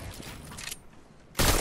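After a stretch of low, busy video game noise, one sudden loud sniper rifle blast cracks out near the end and fills the sound.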